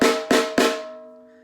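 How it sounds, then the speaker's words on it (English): Three loud, booming drum strikes in quick succession, each ringing out with a long sustained tone that slowly decays into silence, close and unaccompanied. "Some sounds, like the sound of this drum, can be very loud"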